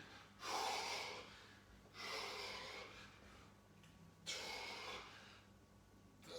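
Heavy breathing from participants in an online home exercise class, three loud, rushing breath bursts in a row, each several seconds long, close and breathy with no talking.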